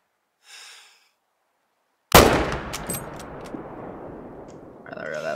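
A hunting rifle fires once at a red deer in theHunter: Call of the Wild, a sharp loud crack with a long rolling tail, after a brief faint sound and a short silence before it.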